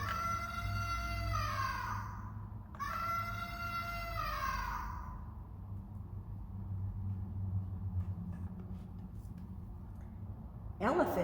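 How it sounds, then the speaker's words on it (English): Two long, bending elephant trumpeting calls close together, loud and harmonic, followed by low rumbling background noise and a brief sharp sound at the end. "I hear an elephant trumpeting in my ear."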